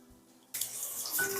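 Water starts pouring into a cooking pot for tomato rice after a quiet moment, becoming a steady splashing rush that continues to the end.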